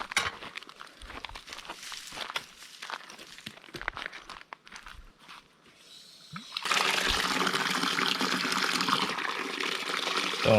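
A garden hose fills a container with water to soak a Yamaha DT air box; a few seconds of faint handling and footstep noises lead into a steady, close rushing pour that lasts to the end.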